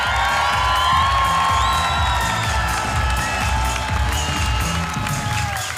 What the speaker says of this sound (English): let us stand up and give a huge round of applause to the host country